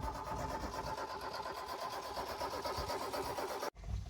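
A Peugeot 106 engine cranks steadily with a dense, even whirring churn for several seconds before abruptly cutting off, followed by a brief low rumble; close and fairly loud, with no talking.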